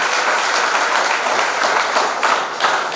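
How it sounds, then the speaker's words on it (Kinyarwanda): A church congregation breaks into loud, dense clapping in praise of God, a steady wash of applause lasting the whole moment with no talking over it. "Komera Imana amashyi cyane."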